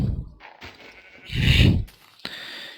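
A sheep in Minecraft is struck and bleats, a loud close bleat in the middle preceded and followed by short hit and game sounds, with no talk over it.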